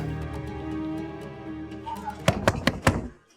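Police knock on a house door in a Hindi crime drama: about five firm, rapid thuds in quick succession, close and loud, following a sustained background music drone, with no talking during the knocks.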